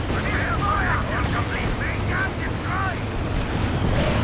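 Continuous battle gunfire and explosions from a Company of Heroes 2 4v4 match, with a Panzer IV tank in the fight, roaring loud and dense throughout, with game voice lines layered over the constant firing.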